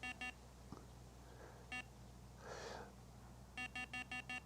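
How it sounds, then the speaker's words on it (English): A Rippton Bitekeeper Cube bite alarm set to maximum sensitivity gives bright electronic beeps: a short pair, then a lone beep, then a quick run of five near the end, with quiet room noise and a soft rustle in between. "for every 1 millimetre of movement, you'll get an indication on your alarm"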